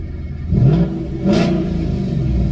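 A 2019 Mustang GT with a Flowmaster wireless active-valve exhaust, valves open, revs twice close by, each deep blip rising and falling over a steady idle rumble.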